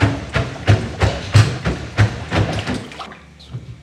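Water gurgling and sloshing into a blocked drain line being refilled before plunging, a series of repeated close splashing thumps and glugs at a steady rhythm, then quieter trickling.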